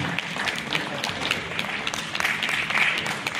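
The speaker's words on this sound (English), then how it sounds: "Huge round of applause to Dr. R.C. Hajari, please." An audience at an international livestock genetics conference in Kolkata gives a round of applause, a steady crackle of many hands clapping together throughout.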